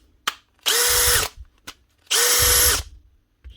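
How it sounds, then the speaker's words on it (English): A power drill in low-speed drill mode whirs in two short bursts with pauses between, each a steady mid-pitched buzz, removing a screw from an angle grinder under repair, preceded and followed by small clicks. "low speed drill mode"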